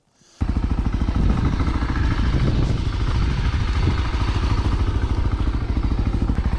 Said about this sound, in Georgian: ესეც ტესტი ამ მოტოციკლეტის, აი ასეთ საშინელ ნაწვიმარ ტალახში.